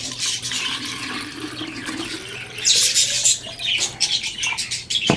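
Water pours and splashes into a container for pet birds, steady then sputtering, while birds chirp nearby in the background.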